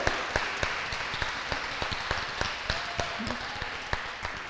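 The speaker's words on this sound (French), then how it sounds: "Et on t'applaudit, on vous applaudit" Applause from a small audience at a talk on pitching, heard as sparse, fairly quiet claps spread across the room at an uneven rhythm, with a faint voice briefly underneath.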